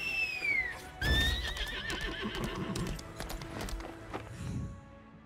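Horse in the video game Lost Ark, a sharp whinny at the start followed by a louder neigh and a run of clip-clopping hooves, close and clear with no talk.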